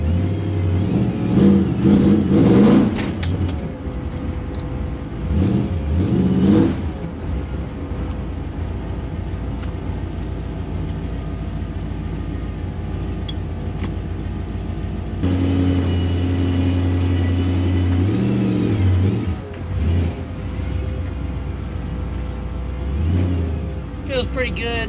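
A 1966 Ford Fairlane 500 driving around the block, its mid-pitched engine rumbling steadily with a few louder revving surges as it accelerates, close and continuous, with people talking inside the car at times.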